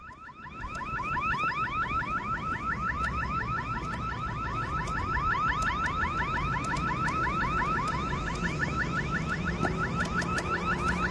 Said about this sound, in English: It's a fire alarm or an alarm going off at Chick-fil-A.